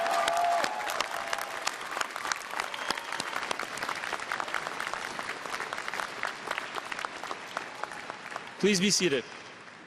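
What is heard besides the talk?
graduates applauding and cheering for their families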